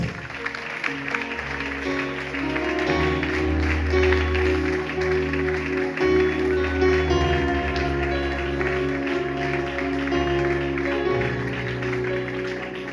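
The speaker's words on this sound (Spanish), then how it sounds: "Dale un aplauso a Dios, por favor." A church congregation claps in praise during a worship service, a steady wash of applause lasting several seconds beneath sustained organ-like music.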